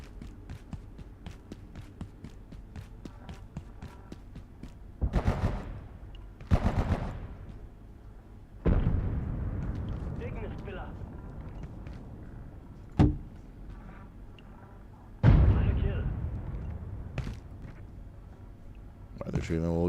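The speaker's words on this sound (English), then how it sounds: "They're shooting the little guys." Gunfire and combat effects in the action game Last Epoch crackle in rapid bursts punctuated by louder impacts and whooshes, while someone talks over the action.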